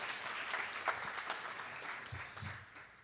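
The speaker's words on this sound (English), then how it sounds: "That's Darius Siegel and Brian Shockett, so let's give them a round of applause as well" An audience at a tech meetup gives a soft, steady round of applause, a diffuse patter heard at moderate distance in a large hall.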